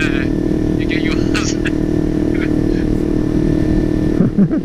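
Kawasaki Ninja 300 or Yamaha YZF-R15 engine running at a steady mid-range drone close by, with a rider talking over it and a brief rev change at the end.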